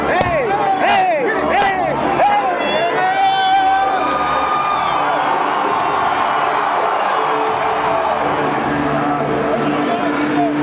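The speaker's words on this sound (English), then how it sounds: "a standing room only crowd greeted the Rebels as they prepared to do battle with the Crimson Tide from Alabama" A standing-room-only stadium crowd at an Ole Miss Rebels football game against Alabama's Crimson Tide roars and cheers continuously, with loud whoops and shouts rising early, then settling into a steady, dense wall of noise.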